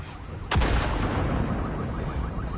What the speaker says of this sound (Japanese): 爆発してんのか。